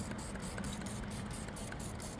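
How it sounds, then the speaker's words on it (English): Dawn dish soap and water sprayed generously onto the rim of an EGO Z6 mower tire, a steady close hiss of spray with faint rhythmic trigger pumping, no talk. "Start spraying down your rim like this."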